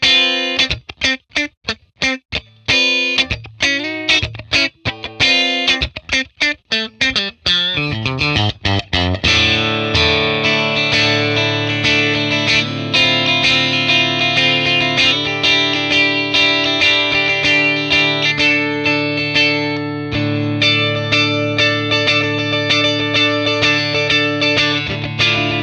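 A Telecaster electric guitar plays through a 1966 Fender Blackface Bassman amp capture with distortion, opening with sharp staccato chord stabs and then settling into sustained, ringing chords and riffs, loud and alone.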